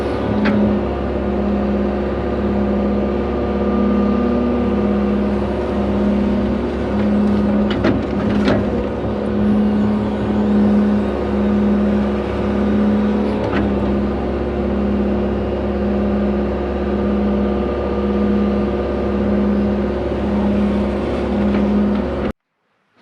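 A 120 excavator's engine drones steadily and loudly nearby while it digs a trench for field tile, a constant low hum with a few faint clanks and no one speaking.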